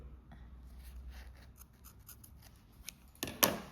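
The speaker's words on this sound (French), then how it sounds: "Et là, vous pouvez couper." Scissors snip through crochet yarn in a single sharp, close cut near the end, after a quiet stretch with faint handling noise.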